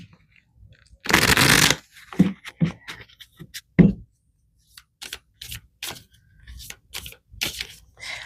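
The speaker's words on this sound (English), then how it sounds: "All right, I'm going to pull an angel card here." A deck of angel cards shuffled for a tarot reading: one dense riffling burst, then scattered soft flicks, taps and card snaps at close range in an otherwise quiet room.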